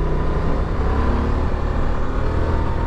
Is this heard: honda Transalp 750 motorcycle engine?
yes